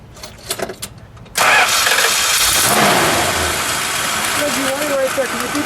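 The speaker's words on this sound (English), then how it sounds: "Well, let's fire it up, shall we?" A few faint sounds, then a 1968 Chrysler Newport's 383 V8 cranks and catches with a loud roar, settling into a rumbling idle up close, with voices underneath.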